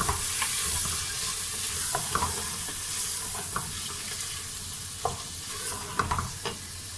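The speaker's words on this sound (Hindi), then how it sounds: "नमक, दालचीनी और इलायची डाल के थोड़ा सा और भूनेंगे।" Black chickpeas frying in a pan with salt, cinnamon and cardamom, giving a steady close sizzle broken by intermittent scraping stir strokes, with no talking.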